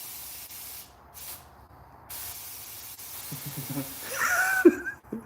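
A paint spray gun being tried out and adjusted gives intermittent bursts of hissing spray, building toward a louder spray near the end, with faint voices nearby.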